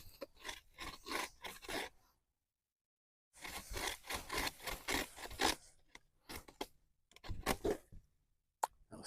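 A bucksaw cuts wood clamped in a plumber's vise, with bursts of rhythmic rasping strokes, a pause, then more strokes that slow toward the end. The sawing is close and moderately loud, with no talking.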